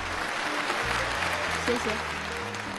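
A studio audience claps on a television antiques auction show, a brief, even patter of hands under which a voice briefly speaks.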